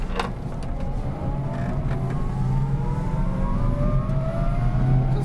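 The electric motor of a VMC Everest highway-ready electric truck gives off a thin high-pitched whine that rises steadily as the truck picks up speed, over a low road rumble inside the cab.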